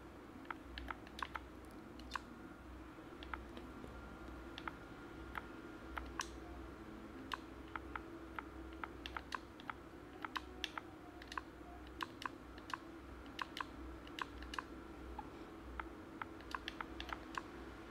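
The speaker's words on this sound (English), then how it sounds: "So let's type in the 6-digit code." Keys on a computer keyboard being tapped to enter a six-digit login code, a steady run of light, crisp clicks spread irregularly across the clip over a faint low background hum, with no talking.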